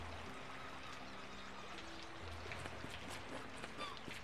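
Steady rain falls in the video game Summer in Mara, a soft continuous patter and wash with faint tonal game sounds underneath.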